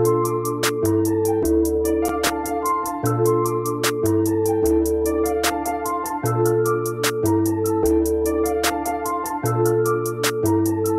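Trap beat with booming 808 bass, claps and rapid hi-hats from Ultra Beat over a melodic loop, dense and steady with recurring sharp accents, loud and continuous without talk.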